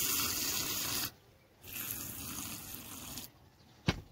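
Water poured from a container over seeds sown in a cup of peat moss: a steady gushing pour that stops briefly, then resumes before ending with a short knock.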